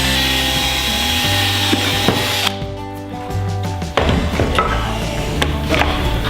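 A power drill whines steadily with a humming motor tone, briefly easing off then grinding on again, close by.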